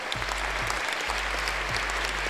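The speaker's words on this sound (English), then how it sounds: "Round of applause." A round of applause in a crypto livestream, dense and steady for a couple of seconds, with a strong low hum and periodic thumps underneath.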